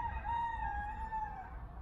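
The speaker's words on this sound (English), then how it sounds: "chickens are really active this morning." A rooster crows once in a long drawn-out call near a home with active morning chickens, fairly faint and slightly distant over low background rumble, with no talking.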